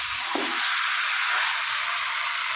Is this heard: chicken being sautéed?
yes